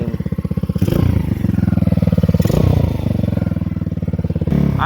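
A 150cc X-Pro Bali scooter engine runs steadily close by with a throbbing, even idle that swells slightly as it revs, then settles again.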